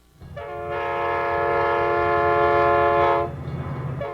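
California Zephyr passenger train sounds a long, loud, steady horn blast of about three seconds over the low rumble of the rolling train, then the horn cuts off and the rumble continues.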